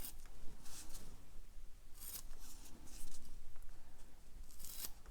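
Scissors cut through the corners of a neoprene piece with several crisp, close snipping strokes, fairly faint against a quiet background.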